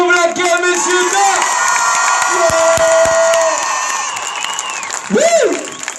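A crowd at a film premiere cheers, whoops and applauds loudly for a performer, with children's shouts and shrill whistles rising above the sustained roar.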